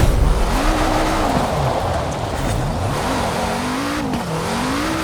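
A Lancia Delta S4 rally car in Forza Horizon 4 accelerates hard, its engine note rising and falling through gear changes with a loud, continuous roar throughout.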